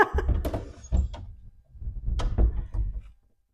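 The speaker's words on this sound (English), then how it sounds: "Can you close the door?" An old phone booth door in a Fort Stockton, Texas museum is pushed shut in two efforts, each a cluster of clattering knocks and rattling thuds, loud and close, before the sound stops abruptly.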